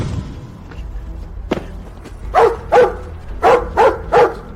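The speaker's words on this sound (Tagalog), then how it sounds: "tumigil ka sa tahol" Dog barking in a Filipino drama scene, about five loud, close barks in a fast irregular burst after a few faint thumps, with no talk.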